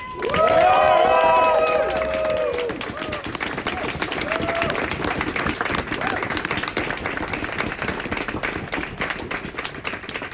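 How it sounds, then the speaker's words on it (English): A large crowd applauds and cheers steadily throughout, loud and dense, at a Starbucks union press conference in Ithaca; at the start a voice rings out briefly over the clapping. "I ask you all once more to give them all a round of applause."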